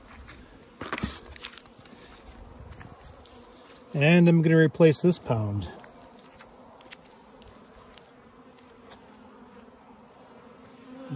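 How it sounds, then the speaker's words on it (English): Honey bees crowd onto a pollen patty in a hive, giving a steady low buzzing hum under the sound of someone speaking briefly in the middle. "Those bees just devouring that patty."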